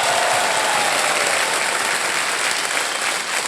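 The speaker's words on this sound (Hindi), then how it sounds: "जोरदार तालियां बज जाए इनके लिए" Studio audience on the Kaun Banega Crorepati quiz show gives a loud, vigorous round of applause for a contestant's win, a thick continuous clatter of many hands with a faint voice briefly cutting through at the start.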